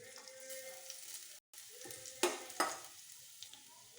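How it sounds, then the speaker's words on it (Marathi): Garlic fries in oil with mustard and cumin seeds, a soft sizzle with a few sharp spoon scrapes and clinks against the pan, briefly interrupted by a moment of silence. "लसूण चांगला तळलेला आहे आपला"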